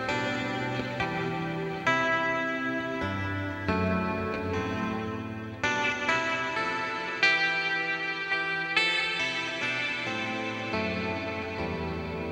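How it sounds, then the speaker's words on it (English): Lush hall reverb from an effects pedal washing over a sequence of played notes and chords, each new attack blooming into long, smooth decaying tails, moderately quiet with no voices. "let's check out the hall reverb setting on this thing, because it's a really beautiful, lush-sounding reverb"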